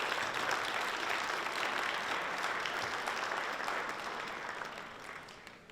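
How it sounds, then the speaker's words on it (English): A crowd at a Chinese Spring Festival celebration applauds hospital staff, a steady, moderately distant patter of many hands clapping that gradually thins and fades toward the close. "They deserve a round of applause for everything that they do every single day."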